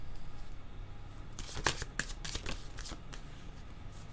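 Tarot cards are riffled and shuffled close by, a quick burst of crisp papery flicks and snaps lasting about two seconds amid soft room noise.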